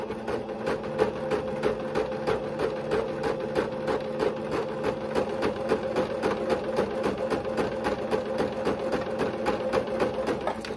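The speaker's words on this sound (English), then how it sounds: "we're going to sew that straight line. So all we're doing is sewing the channel so the elastic can go in." A sewing machine stitches a straight elastic channel in ruffled tutu socks, its needle pounding in a fast, even rhythm over a steady motor hum, moderately close and uninterrupted.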